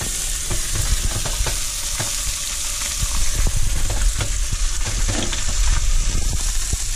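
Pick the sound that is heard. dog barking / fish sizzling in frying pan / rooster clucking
fish sizzling in frying pan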